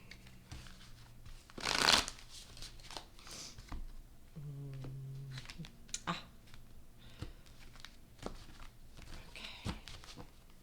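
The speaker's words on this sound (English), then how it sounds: "I'm going to do 2 more shuffles." Tarot cards being shuffled at close range, with quick riffles and soft slaps, a louder burst early on, then lighter handling and taps.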